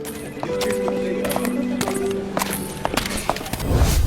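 Donkeys walking with hooves clip-clopping in a steady irregular rhythm, mixed with a tonal braying-like call, near and fairly loud with a dense background.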